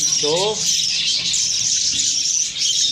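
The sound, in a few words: budgerigar chicks and parents chirping in cage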